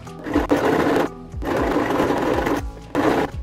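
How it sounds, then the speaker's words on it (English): Sewing machine running a top stitch along an existing seam of a sweater, whirring in several close, loud bursts separated by short pauses. "I'm just doing a top stitch along the seam that's already in the sweater, and then I'm doing another one at the bottom"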